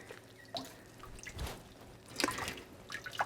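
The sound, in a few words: water dripping off a wrung-out wet puppy after bath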